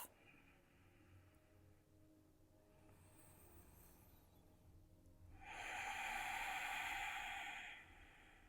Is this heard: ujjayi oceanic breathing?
yes